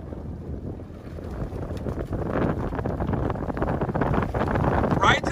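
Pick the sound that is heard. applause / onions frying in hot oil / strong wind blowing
strong wind blowing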